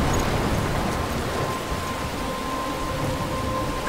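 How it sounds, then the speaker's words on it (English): Storm in the video game Life Is Strange, with steady, heavy rain hissing continuously over a low rumbling of thunder, filling the whole scene without letup. "I'm trapped in a storm?"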